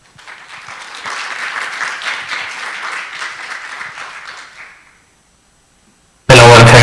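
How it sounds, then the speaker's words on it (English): A conference audience at a global food safety meeting on foodborne antimicrobial resistance applauds steadily for about four and a half seconds to welcome a speaker, then fades to silence before a loud burst at the very end. "Please welcome Dr. Riebana with a warm round of applause"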